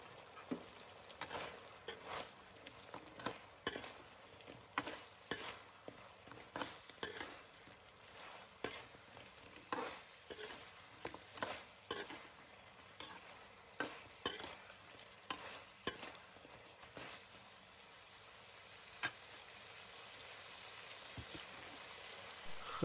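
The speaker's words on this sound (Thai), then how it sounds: "เอาปลานิลทอดกรอบของเรานะครับใส่เข้าไปเลยนะครับคนให้เข้ากันนะครับ" Crispy fried tilapia is stirred into a spicy Thai stir-fry in a pan, with a steady run of scraping, sizzling strokes repeating about once a second and no talk.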